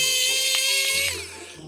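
A power screwdriver backs a screw out of a plastic Earthrise Doubledealer upgrade kit, a close, steady high motor whine lasting under two seconds that sags and roughens toward the end.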